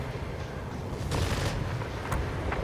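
Yak-9 fighter aircraft guns in World of Warplanes rattle in short bursts over a constant engine drone, the firing fairly loud but partly blended into the steady roar.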